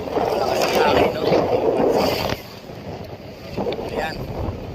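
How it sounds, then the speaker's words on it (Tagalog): Strong seaside wind buffets the microphone with a loud, rushing roar that eases partway through and then gusts again, while a person talks under it. "Malakas ang hangin, no?"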